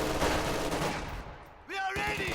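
Panzerfaust rocket blast hitting a building amid loud gunfire and explosions in a World War II strategy game, a dense, rumbling barrage of fire with a brief voice near the end.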